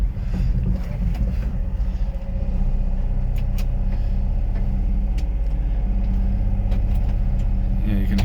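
Honda Acty Attack HA4 mini truck with its small engine running: a steady, low droning hum with a buzzy rumble, heard from inside the cab alongside light wind-like noise.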